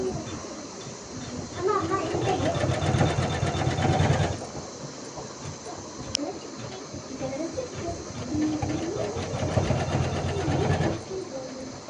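An embroidery machine stitches a design in gold zari thread, giving a steady mechanical whirring and rattling hum that runs throughout, with a voice talking over it.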